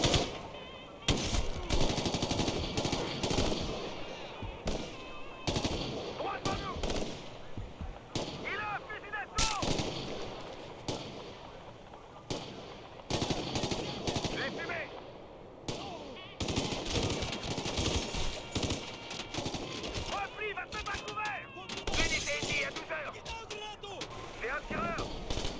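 Sustained gunfire in Tom Clancy's Ghost Recon Future Soldier, with loud bursts of shots and automatic fire aimed at the player in a firefight, repeated volleys through most of the stretch, some speech mixed in.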